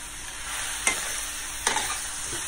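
Stir-frying vegetables in a pan with oyster sauce for a Thai napa cabbage stir-fry: a steady sizzle punctuated by two sharp utensil scrapes and clacks, close and moderately loud, with no talking.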